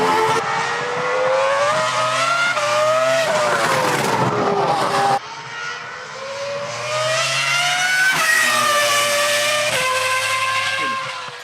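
A Ferrari V12 Formula 1 race car roars at high revs, its engine note climbing through gears in two long screaming passes with brief shifts and tire noise.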